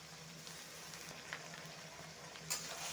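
Ivy gourd and tomato fry in a pan with a faint, steady sizzle and occasional soft pops, quiet and close.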